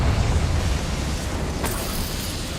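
Hogwarts Legacy's Confringo blasting spell erupts into a loud, rumbling explosion that rolls on for a couple of seconds, with a faint crackling burst partway through.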